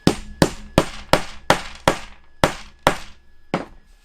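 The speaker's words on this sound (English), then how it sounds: "when you put these in and you hammer them down" Threaded inserts are hammered into a CNC wasteboard, nine sharp, loud, close blows at a steady pace of roughly two per second, each ringing briefly before the next, with no talking.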